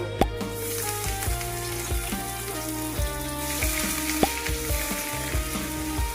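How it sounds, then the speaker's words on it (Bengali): Sliced onions and half a tomato fry together in a pan with a loud, steady sizzle. A spatula scrapes and knocks against the pan every so often, and no one speaks. "পেঁয়াজগুলোকে আমি এইরকম করে কেটে নিয়েছি, আধখানা টমেটো কেটে নিয়েছি। এবার এগুলোকে আমি একসাথে ভেজে নেব।"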